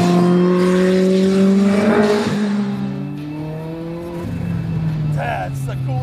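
A tuned Lotus race car engine revs hard, its tone climbing and falling through gears in loud sweeping pitches, with a voice speaking over it.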